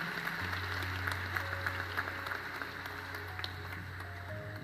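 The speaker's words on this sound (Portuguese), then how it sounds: "dá uma salva de palmas para o Senhor" Steady applause from a crowd, a dense even patter of many hands clapping at a moderate distance, continuing without pause.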